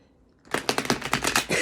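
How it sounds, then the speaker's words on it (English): Tarot cards are split and riffled together, a quick run of crisp, close clicking flaps after a near-silent start, with no talking. "splitting the deck"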